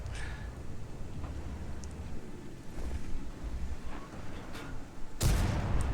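Tank cannon fire in the video game World of Tanks: one loud, sharp blast near the end cuts through a steady low rumble of engine and battlefield noise.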